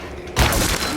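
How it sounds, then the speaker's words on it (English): A weapon breaking in the video game Alone in the Dark: a sudden loud shattering crack after a quiet lead-in, trailing into a rough, noisy decay. "My weapon broke!"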